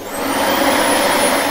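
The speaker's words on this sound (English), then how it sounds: "That's a vacuum cleaner, says Chloe." A vacuum cleaner runs steadily at night, a loud, close, continuous motor whine and airy roar holding level without a break for the whole short stretch.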